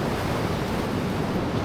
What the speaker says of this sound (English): the waves crashing on the left